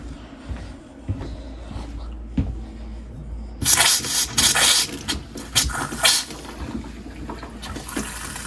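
Quiet rustling gives way to a camper's kitchen sink tap suddenly running, a steady rushing splash of water continuing close by until the end.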